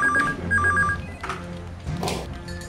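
An incoming call rings on a phone in a Konkani short film, a repeated electronic ring in two bursts heard up close over background noise, followed by other faint sounds.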